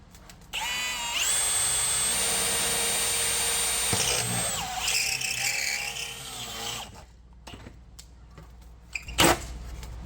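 A large drill bit bores loudly and steadily into a truck chassis during an International Loadstar chassis swap, a sustained high whine that strains and slows partway through before stopping, followed by scattered clanks.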